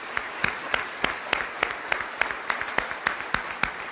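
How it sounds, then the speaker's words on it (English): An audience applauds at a university athletics announcement, individual claps sounding sharply and rhythmically at a steady pace, fairly sparse and close rather than a dense roar. "Jen, round of applause for Jen Smith."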